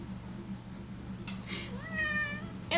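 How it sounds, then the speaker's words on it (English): A pet male cat with a paw condition and patchy fur gives one clear, close meow with a rising-then-falling pitch over a low background hum, followed by a brief rustle. "He's my kitty."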